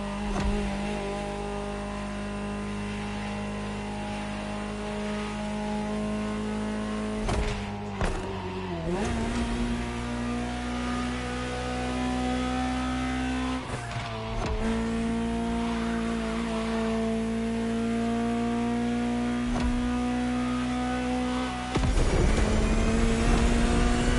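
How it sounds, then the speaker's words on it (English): A Ferrari supercar engine in The Crew Motorfest revs loud and close with a steady harmonic drone, shifting pitch through several gear changes and climbing sharply near the end, with no voices over it. "Just listen to the car you're driving."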